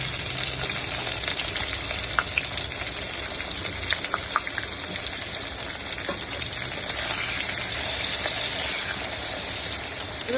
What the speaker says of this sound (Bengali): দেখো বন্ধুরা, পেঁয়াজটা ভাজা হয়ে গেছে।